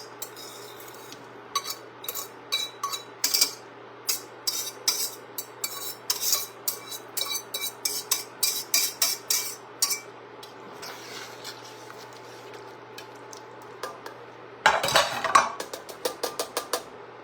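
Vegetables for a chicken pot pie casserole tumble into a cooking pot in a home kitchen, giving a run of light clattering knocks and clinks, then a louder scraping burst near the end, all close and with no talking.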